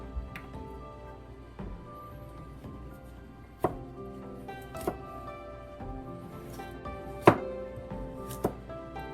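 Knife chopping pork and vegetables on a cutting board for Szechwan boiled pork, sharp irregular thuds spaced a second or so apart, close and crisp.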